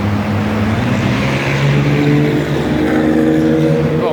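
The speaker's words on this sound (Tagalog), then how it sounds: "Sports car." A white sports car speeds past on an expressway beside a bus stop before the Harbour Tunnel, its loud, steady engine roar rising in pitch toward the end over constant traffic noise.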